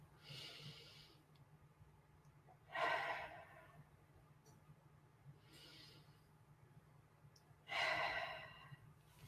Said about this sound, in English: Three breaths.